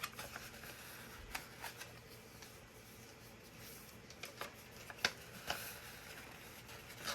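Paper being creased and folded for an origami gift box: faint, scattered crinkles and soft snaps, a few sharper rustles standing out against a quiet background.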